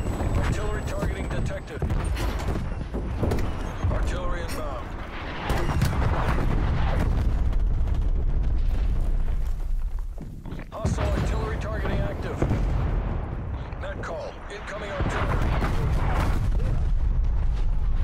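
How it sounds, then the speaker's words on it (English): Heavy, continuous booming from artillery strikes in the video game Call of Duty Cold War, with dense rumbling blasts and gunfire mixed under game voice callouts. The barrage pauses briefly midway and then resumes. "Artillery inbound."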